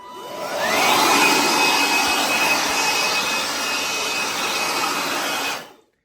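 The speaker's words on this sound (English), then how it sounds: "if you do this for a living, you may want to invest in a battery-operated blower" Battery-operated blower clearing crumbs off a floor, a loud, steady, close-up whoosh that holds for about five seconds before cutting off.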